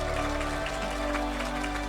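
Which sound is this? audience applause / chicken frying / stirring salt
audience applause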